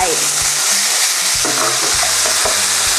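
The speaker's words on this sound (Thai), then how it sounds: "ผัดจนไก่เริ่มสุกพักๆนะคะ" Chicken pieces sizzle loudly in a hot pan while a utensil scrapes and stirs in a steady, repeated rhythm during stir-frying for Thai baked rice.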